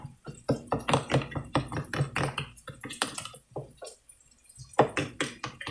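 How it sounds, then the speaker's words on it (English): A spoon stirs seasoning into cooking taco meat, giving quick irregular wet taps and scrapes in close bursts, with a short pause before the clatter resumes. "Let me go ahead and stir this in."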